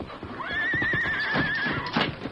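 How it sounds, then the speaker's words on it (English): A frightened horse whinnies in one long, loud, wavering neigh, close by, with quick hoof clip-clops underneath, staged as a radio drama effect on a trail with a wagon team. "Suddenly, one of the horses shied at the sight of a rattler on the trail."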